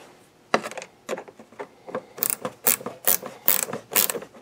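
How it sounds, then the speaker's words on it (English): A car battery terminal clamp being tightened with a ratchet wrench, giving a close, steady run of sharp ratcheting clicks in quick bursts that grow busier and louder toward the end, with no talk. "battery terminal's tightened up"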